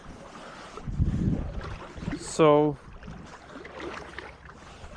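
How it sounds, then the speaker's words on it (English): Water swishes and sloshes as someone steps into a clear backyard creek, a low rough churning that continues around a short spoken word. "So I'm going to hop in the creek here for you guys."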